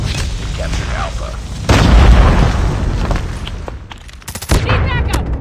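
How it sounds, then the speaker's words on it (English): Predator missile explosion in Call of Duty Mobile, a loud booming blast within a barrage of game gunfire and bursts, with voices heard amid the action. "Predator missile inbound."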